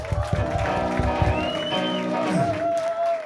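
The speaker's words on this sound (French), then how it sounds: "Donc, donnez-leur une grosse main d'applaudissement." Concert audience applauding at a music festival gig, a sustained wash of clapping and crowd noise with a held tone ringing through it.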